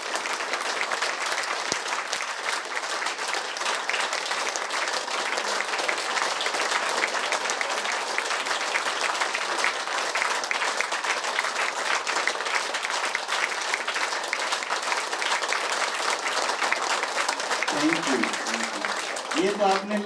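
An audience claps loudly and steadily at a Diwali festival gathering in Bahadurgarh, the applause dense and continuous for about twenty seconds, with a voice briefly heard near the end.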